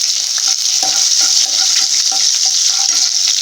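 Dried red chillies and cumin seeds frying in hot oil for egg rice, a steady bright sizzle with small crackles and light stirring scrapes, close and continuous.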